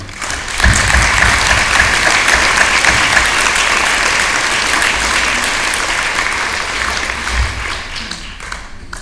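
A room at a municipal council meeting breaks into applause for newly elected deputies, sustained dense clapping from many hands that swells quickly and holds steady for several seconds before tapering.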